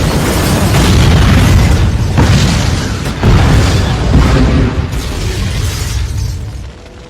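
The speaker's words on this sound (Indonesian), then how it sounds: "api yang menjalar ke sebuah perahu bot mengakibatkan terjadinya sebuah ledakan" A boat explodes in the 2004 action film The Punisher, a loud, sustained rumbling blast with repeated booming surges that roll on for several seconds before tapering slightly.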